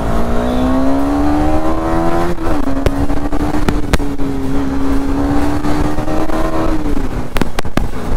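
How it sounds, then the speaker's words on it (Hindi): A motorcycle engine revving loudly while being ridden, a sustained close drone that rises in pitch, dips and climbs again before easing off, with wind buffeting throughout and no talk. "भाई साहब बाइक क्या चलती है भाई, भागती जाती है"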